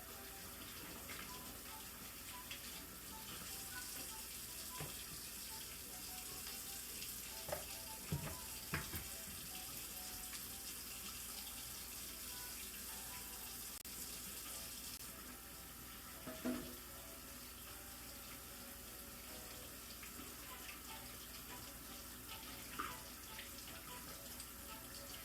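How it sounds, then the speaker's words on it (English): Tap water runs steadily into a kitchen sink while hands are washed clean of chocolate during holiday cookie baking, a continuous hiss with a few small splashes and clunks over the whole span. "Let me just get this chocolate off my hands and wash my hands real quick."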